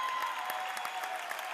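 A basketball crowd at a Strasburg quarterfinal game applauds steadily, a dense wash of many hands clapping at a fairly even level with no clear voices standing out.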